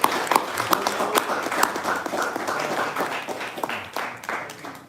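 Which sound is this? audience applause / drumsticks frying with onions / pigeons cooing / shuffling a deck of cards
audience applause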